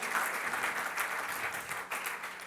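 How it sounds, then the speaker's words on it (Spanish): A church congregation gives a burst of steady applause during a worship service, dense hand-clapping filling the room at an even level from start to finish with no talk over it. "Démosle un aplauso al Señor"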